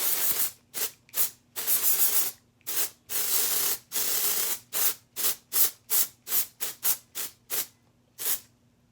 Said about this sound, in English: I'm gonna close my eyes and spray my face.